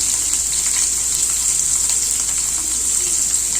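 Onions and shallots frying in a pan for beetroot kuruma, a close, steady, loud hissing sizzle that holds evenly throughout without talk.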